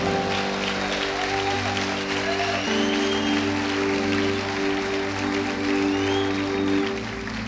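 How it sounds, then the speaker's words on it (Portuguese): Congregation applauding during a church service, a dense, steady wash of clapping hands lasting throughout, with sustained organ or keyboard chords beneath. "Aleluia, aplauda ao Senhor."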